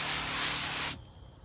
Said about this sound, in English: I'm just spraying the foliage